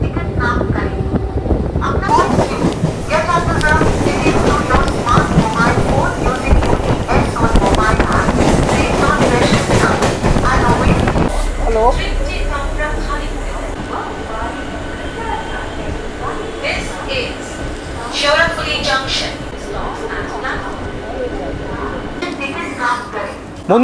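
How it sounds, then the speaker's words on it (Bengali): A Howrah–Tarakeswar local train runs loud and close with continuous rumbling, rattling carriage noise, easing into a calmer rolling clatter, as a voice speaks over it throughout. "আমাদের ট্রেন এখন এসে গেছে শেওড়াফুলি জাংশন রেলওয়ে স্টেশনে"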